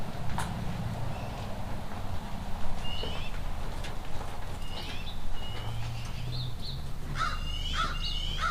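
Magpies call outdoors in short, harsh chattering bursts, several scattered calls at moderate distance over steady wind and low rumbling background noise.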